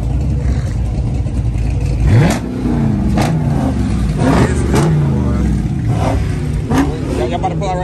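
LS-swapped car at a cars and coffee meet revving, with loud repeated throttle blips rising and falling over a constant rumbling idle, and voices talking among the engine noise.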